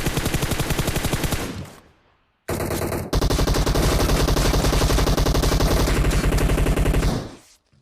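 Suppressed automatic gunfire in the PUBG Mobile battle game, heard as loud rapid-fire bursts: a short volley, a pause, then a longer sustained stream of fast shots that fades out at the end.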